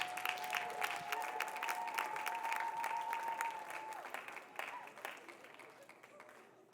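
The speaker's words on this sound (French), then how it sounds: "Si on peut les applaudir." Church congregation applauding after a presentation of the Friday school and bilingual youth group, steady clapping with a faint sustained tone underneath that thins out and fades near the end.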